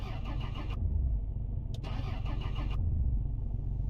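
A car engine in the driving game Mon Bazou cranks repeatedly without catching, a steady rhythmic starter churn that runs close and loud across the whole stretch, broken by short pauses between attempts.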